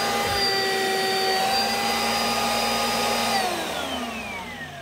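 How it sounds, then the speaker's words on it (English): An Oreck upright vacuum cleaner running loudly with a steady whine while turned over, its pitch dropping near the end as the motor slows under hand pressure. "turn the vacuum cleaner on and flip it over"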